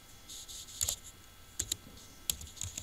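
Typing on a computer keyboard while entering a formula in Excel, a few close, light key clicks in small irregular clusters against a quiet room, no talk.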